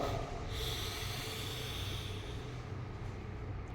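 A deep nasal inhalation during pranayama breathing practice makes a steady, airy, close-up hiss that continues unbroken for several seconds.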